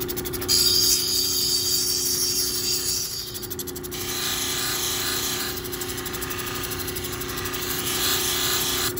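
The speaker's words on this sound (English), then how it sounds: "So we're going to continue to smooth it up to where we are happy with it on the black wheel" A lapidary grinding wheel smooths a creek-rock cabochon with a steady, close grinding whir and a brighter scraping hiss that comes and goes as the stone is pressed and shifted against the wheel.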